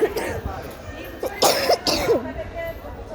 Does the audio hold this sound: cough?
yes